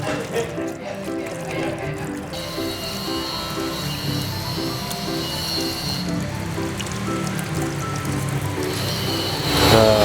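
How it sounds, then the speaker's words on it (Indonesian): Water pours steadily from a tap, a continuous splashing rush that stays fairly even throughout, with no one speaking. "usahakan cuci tangan pakai air yang dari keran kayak gini"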